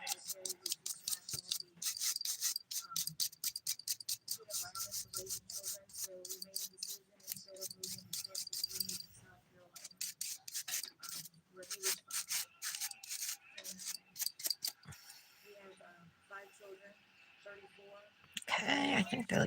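Rubbing alcohol being rubbed over fingernails during an at-home dip powder manicure, a dense run of quick, close scrubbing and scratching strokes that keeps going almost without pause, with someone talking over parts of it.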